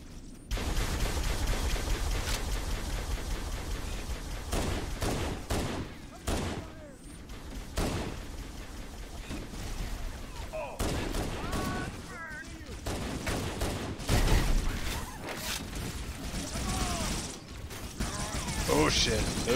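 Gunfire from Marines in a canyon in the Halo: Combat Evolved video game, with dense bursts of rapid shots and explosions rattling on throughout, under a busy game mix and occasional talk.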